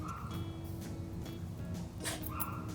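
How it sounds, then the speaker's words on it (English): A four-year-old pug mix dog makes raspy, gagging choking noises with small whimpers, close and continuous over a noisy indoor background. "if you do hear a little bit of choking, it's because pugs normally need a harness when they're walked on a leash"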